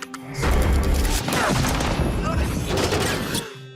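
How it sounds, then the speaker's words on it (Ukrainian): Heavy artillery fire booms and rattles continuously, loud and rumbling, with bursts of blasts layered together. "Ремлять гармати."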